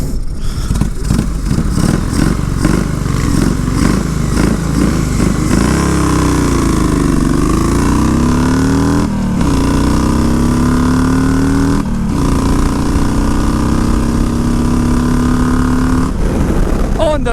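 Motorcycle at a drag strip accelerating hard through the gears, a loud close engine howl rising in pitch with brief dips at each shift, sustained over the whole run.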